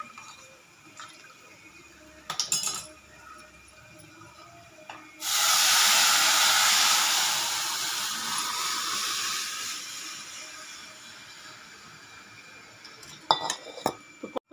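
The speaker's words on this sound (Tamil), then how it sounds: "இப்போ நான் குழம்பு வந்து ஊற்றுறேன்" A sudden broad hiss as Tamil chana dal curry is poured into a hot pan, sizzling loudly and then settling into a steady softer frying sound, with a few utensil clinks around it.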